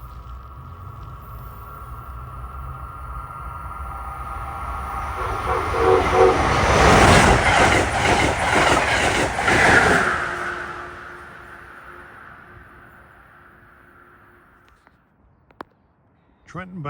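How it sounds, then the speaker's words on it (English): An Amtrak Keystone passenger train running New York to Harrisburg passes cab car first, swelling from a distant rumble to a loud, broadband roar with clattering wheels around the middle, then fading away. "Approaching at 4:48 is train 651, New York to Harrisburg Keystone"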